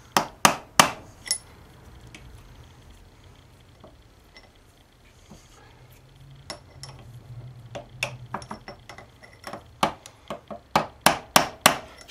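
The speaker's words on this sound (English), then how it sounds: "I'm just gently going to separate the bearings. We'll push this one out instead," Sharp metallic taps knock out the bearings on a John Deere STX38 ride-on mower, close and loud, coming in irregular clusters with a quieter pause in the middle and a rapid run of strikes at the end.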